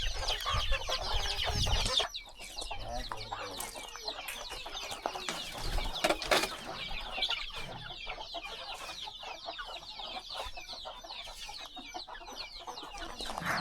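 Chickens cluck inside a small backyard coop in the early morning, a busy overlapping chorus of clucks and chatter from several birds at moderate distance, with a brief louder burst partway through.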